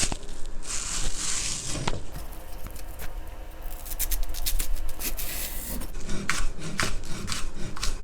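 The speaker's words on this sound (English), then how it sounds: "So that was my shortcut to chop up this onion pretty quickly." Rapid knife work chopping a dry-skinned onion on a board for a beef noodle stir fry, with dense, rasping cuts running steadily through the whole stretch, close and fairly loud.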